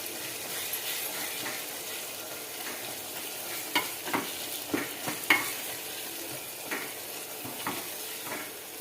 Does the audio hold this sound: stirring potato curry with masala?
yes